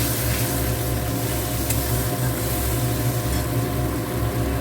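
Spice paste, loosened with a splash of hot water, fries in a pan for fish roe korma made with coconut milk, giving a steady, even sizzle up close with no talking.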